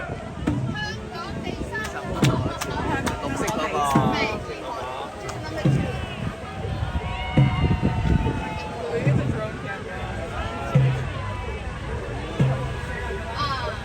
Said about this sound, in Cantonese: 掌聲歡呼聲，你哋都要嗌喎！